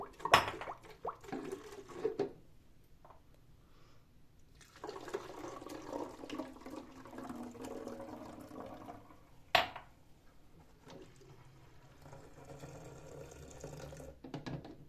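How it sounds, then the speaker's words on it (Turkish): Two glasses of lukewarm water poured into a homemade dust-cleaning mixture, a splashing pour running for several seconds at close range with short clatters of glass and container before and after. "2 su bardağı ılık su şöyle karışımımın içerisine döküyorum."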